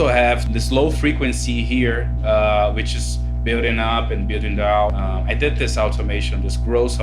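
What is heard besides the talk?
No everyday noise stands out behind the speech.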